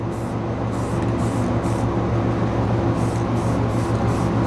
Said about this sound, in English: So again, I can spray it and just sort of move it around.